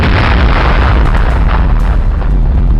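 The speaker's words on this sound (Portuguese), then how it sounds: "estamos falando de uma explosão nuclear" A nuclear explosion in a superhero fight scene, a massive, loud rumbling roar with heavy low-end booming that fills the moment continuously without letting up.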